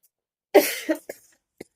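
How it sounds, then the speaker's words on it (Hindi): A single sharp cough followed by a couple of small trailing hacks, close and isolated against silence. "बहुत खांसी हो रही है"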